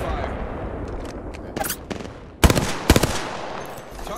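Gunfire in the video game Apex Legends, with sharp bursts of shots cracking over a steady background of combat noise, the loudest rapid volleys arriving around the middle; game character voices are heard during the clip.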